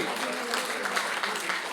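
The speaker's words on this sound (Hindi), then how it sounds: "जोरदार तालियां सिंधे साहब के लिए" An audience at an agricultural seminar claps for an honoured guest, a brief, even burst of many hands applauding while a voice speaks over it.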